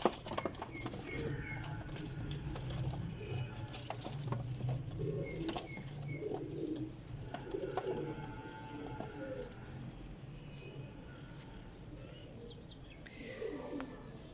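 Teddy pigeons, a breeder pair kept by a hobbyist, coo in low repeated calls through a steady murmur of background sound, with brief chirps and a few bursts of wing flapping mixed in.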